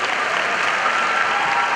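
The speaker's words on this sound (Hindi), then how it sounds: "Can you please give a big hand, ladies and gentlemen?" A large audience at a big event claps together in a dense, steady round of applause that holds at an even, loud level throughout, with no voices standing out above it.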